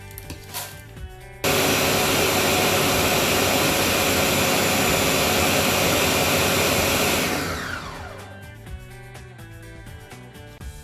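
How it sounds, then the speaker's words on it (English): A blender grinding dosa batter whirs at full power for several seconds with a loud, steady grinding roar, then winds down and stops. "So I'm going to blend this in this blender."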